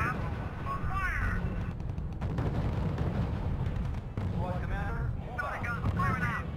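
Artillery fire in the real-time strategy game R.U.S.E. comes as heavy, rumbling booms and blasts under a continuous battle din, mixed with radio-style unit voices talking.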